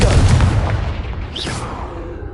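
A Confringo blasting curse explodes in a Harry Potter video game, a heavy low boom that rumbles on with a brief rising whoosh partway through.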